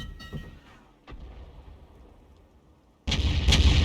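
M53/M55 self-propelled artillery in a video game, a rumbling shell impact fading out, a short quiet gap, then a loud heavy firing blast that booms and rolls at the end.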